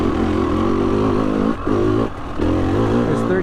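Dirt bike engine in third gear on a wet trail ride near Revelstoke, British Columbia, a close, loud buzzing drone with brief dips where the throttle eases off before picking back up.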